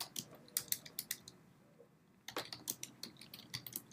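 Quick bursts of computer keyboard typing, close and crisp, with irregular clattering keystrokes, a short pause in the middle, then another run of typing.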